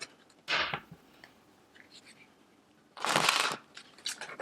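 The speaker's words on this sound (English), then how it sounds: "These cards are always so hard to shuffle." Tarot cards being shuffled in two brisk bursts, a short riffle near the start and a longer, louder one a few seconds later, with quiet rustling and handling noises between them.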